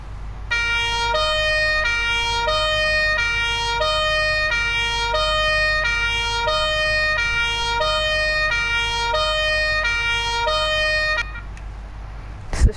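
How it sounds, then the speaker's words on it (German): A loud two-tone vehicle siren in Farming Simulator 22 alternates steadily between a high and a low pitch for about eleven seconds, then cuts off, leaving a low engine hum. "Man kann auch mal kurz eine Tour mit Sirene fahren,"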